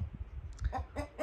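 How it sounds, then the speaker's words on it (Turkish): A rooster clucks in short, repeated bursts close by, with low rustling and outdoor background noise underneath. "Bak orada tavuk var şimdi bak."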